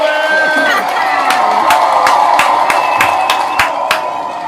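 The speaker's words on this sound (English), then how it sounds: "put a round of applause in the audience" An audience claps and cheers with sharp, repeated clap bursts over a dense crowd roar, loud and close.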